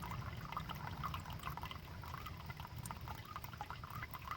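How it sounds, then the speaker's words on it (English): Water drains from aquaponics buckets holding goldfish and crayfish, making a faint, steady trickle and gurgle that runs evenly throughout without any talking. "So now it's just draining the buckets."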